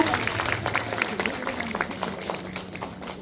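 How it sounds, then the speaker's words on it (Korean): Audience applause for award winners at a senior welfare evaluation ceremony in a Daegu welfare centre hall, a dense continuous crowd clapping that stays loud and slowly fades toward the end. "축하의 큰 박수 부탁드리겠습니다."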